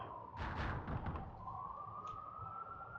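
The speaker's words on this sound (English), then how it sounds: "apologies for the sounds of the sirens in the background, which I'm sure you can hear." A faint wailing siren drifts in the distance behind rumbling background noise, its tone rising and holding steady, with a few muffled thumps early on.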